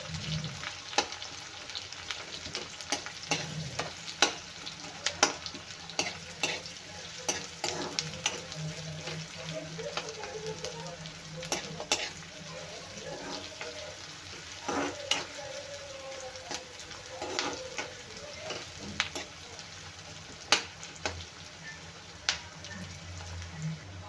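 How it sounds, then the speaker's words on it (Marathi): A finely chopped onion fries in oil with a soft, continuous sizzle and scattered crackles, while a voice talks over it at times. "छान बारीक चिरून घेतला आहे तो पण तेलात फ्राय करायचा आहे"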